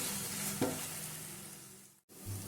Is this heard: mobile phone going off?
no